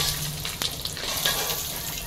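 An egg frying in a pan gives a steady soft sizzle with small crackles and a faint clink or two, close and quiet, with no talking over it.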